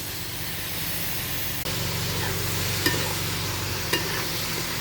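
Chicken with ground spices and chopped tomato frying in a pan, a constant loud sizzle and hiss with a few faint stirring clicks and scrapes, no talking.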